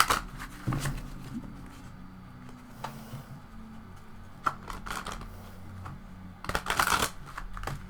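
Pulp Tarot cards are shuffled close by, with soft riffling and flicking bursts and a few sharper snaps of card stock, quiet and intermittent.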